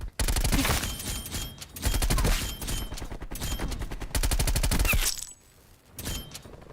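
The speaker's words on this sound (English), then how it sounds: "I heard shots." Rapid gunfire in Black Ops Cold War rattles out in loud, dense bursts, pausing briefly between volleys before a final quieter stretch.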